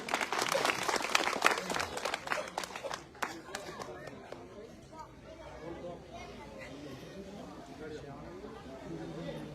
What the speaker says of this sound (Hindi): आप सब जोरदार तालियां बजाइए।